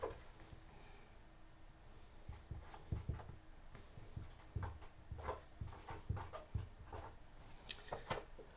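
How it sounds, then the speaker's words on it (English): A pen writing on cards in a quiet room, giving faint, soft scratchy strokes in short irregular bursts with small pauses between them, and no talking. "One of them is writing it down right now."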